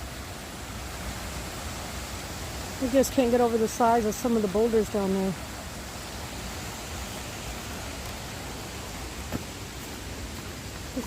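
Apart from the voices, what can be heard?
river water flowing beside a hiking trail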